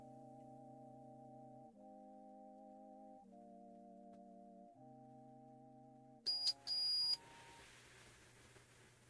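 Short electronic beeps from a PS5 console, in steady tones that change pitch every couple of seconds, then a brief burst of sharper, higher beeps near the end. No voices are heard.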